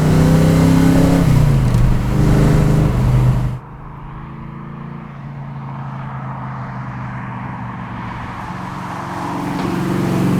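A car engine revs hard with rising harmonic pitch, then cuts sharply to a lower, steady drone before building again toward the end, loud and close, with no talking.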